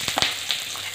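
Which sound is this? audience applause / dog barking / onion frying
onion frying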